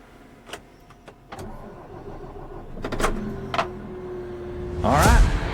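A wheel loader's engine cranks and catches, with a few clicks and a door-like clunk before a rising mid-pitched diesel rumble, close and fairly loud, with no speech.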